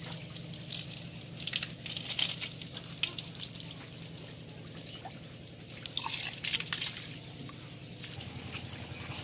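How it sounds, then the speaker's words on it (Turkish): Water drips and splashes close by at a solar-powered village pump and fountain in Kunduz, Afghanistan, uneven trickles and drops over a low steady hum, with no talking. "Güneş paneliyle çalışan su pompası."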